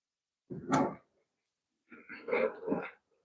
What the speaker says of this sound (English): Love me a dog.